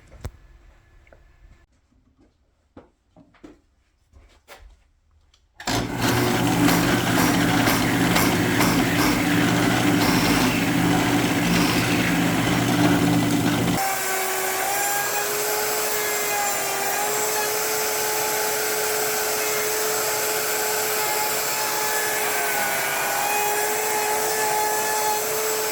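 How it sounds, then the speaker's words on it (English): A power tool bores and routes into a wooden Warwick fretless bass body: a few quiet knocks first, then a loud, sustained whining cut for several seconds, shifting into a steadier high-pitched tool drone to the end. "drill out these controls, and then I have to route the cavity in the back"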